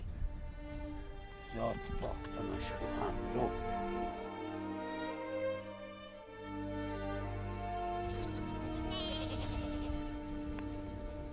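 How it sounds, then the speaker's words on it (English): A flock of over 300 sheep bleat repeatedly, overlapping calls near and far, with people talking in the background throughout. "gather more than 300 sheep for the journey"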